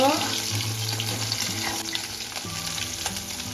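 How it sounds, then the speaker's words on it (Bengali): Chital fish muitha dumplings fry in a pan of hot oil, giving a steady close sizzle with light stirring scrapes and a faint watery trickle, over a soft musical background and no talk. "ভেজে একটু নেড়ে ফেড়ে দু মিনিট ভেজে নেব"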